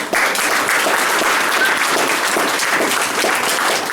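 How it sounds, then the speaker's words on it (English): A crowd at an under-14s rugby league prize giving applauds the coaching staff with loud, sustained clapping throughout, close and dense, without a break. "there must be a big applause for the coaching staff for getting them through that"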